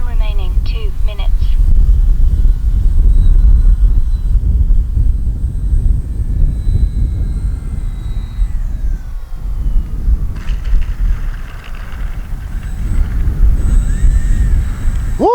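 A small engine on an RC F8F Bearcat warbird model airplane buzzes steadily at moderate distance during a short hop, with wind noise and a few short voices breaking in.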